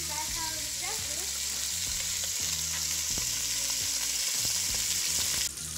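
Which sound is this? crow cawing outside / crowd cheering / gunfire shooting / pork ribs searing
pork ribs searing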